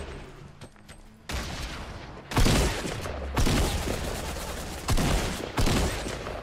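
Gunfire in the video game Fortnite: several loud bursts of rapid shots, spaced a second or so apart, with quieter stretches between and no talking over them.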